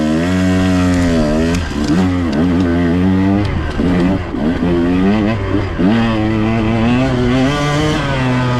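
A dirt motorcycle lugs up a loose, curving trail climb, its engine loud and close throughout, rising and falling in pitch as the rider works the throttle in steady surges.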